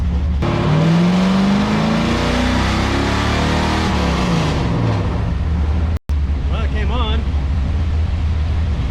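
C4 Corvette with nitrous making a short test run, engine revving up loudly and then backing off, with a brief cutout and muffled noise afterward.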